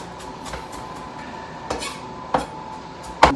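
Cooking wine, soy sauce and scallions being mixed in a dish with a utensil, a few soft scrapes and sharp clinks against the dish, quiet and close, with no talking.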